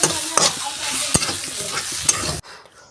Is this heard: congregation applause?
no